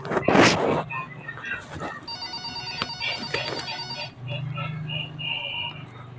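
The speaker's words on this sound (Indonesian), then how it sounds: "Telepon." A telephone rings in a nurse-themed video game, sounding as a steady electronic ringtone for about two seconds, loud and near, between other game sounds and effects.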